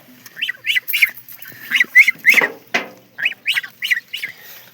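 Ducks quack in quick repeated bursts close by, several squawking calls in clusters, with a rustling scuffle in the middle and no talking.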